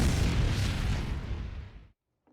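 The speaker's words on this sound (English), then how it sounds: "I'm guessing it was a bomb, right? That given the explosion." A bomb blows up in the video game Team Fortress 2 with a loud, close, broad roaring blast that holds for nearly two seconds, then fades and cuts to silence.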